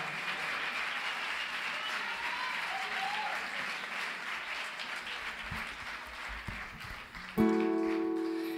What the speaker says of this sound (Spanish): Quiero pedir también un fuerte aplauso a mi querido manager, Valentín López